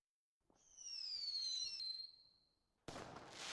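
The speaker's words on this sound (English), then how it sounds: "Celebrate America's 250th anniversary with fireworks" A firework whistles as it rises, its tone sliding slowly downward for about two seconds, then a loud crackling burst follows. It is heard alone, with no voices.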